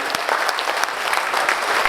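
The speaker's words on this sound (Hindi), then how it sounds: "जोरदार तालियां।" Loud, thick applause from a crowd at a company's first anniversary celebration with a motivational speaker, many hands clapping vigorously in a brief, unbroken burst.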